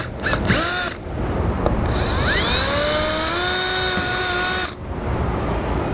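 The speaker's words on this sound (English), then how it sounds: "and drill our holes." A power drill with a 5/16 bit bores holes during an Air Lift LoadLifter 5000 air helper spring installation, giving a couple of short whirring bursts, then one long, loud whine that climbs in pitch before cutting off.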